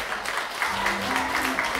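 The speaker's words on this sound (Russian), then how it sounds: "Аплодисменты." An audience applauds at a children's show, a soft, steady patter of clapping with a muffled hum and voices underneath.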